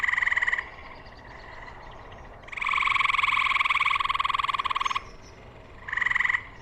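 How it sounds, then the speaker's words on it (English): Tree frogs in upstate New York give loud chattering calls, a short burst, then a longer sustained trill, then another short burst, each a rapid pulsing rattle over quiet outdoor background. "I was focused on this chattering call, which is actually a type of tree frog that we have around here in upstate New York."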